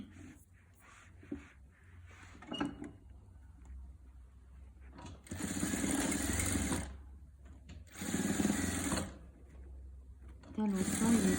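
Sewing machine stitching the sides of a 3D pillow together in two loud bursts, each about two seconds long, with handling noises and soft pauses between runs and another short burst starting at the end.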